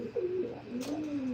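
Racing pigeons cooing inside a loft, a few soft, low warbling coos rising and falling close by, with light background hiss and no talking.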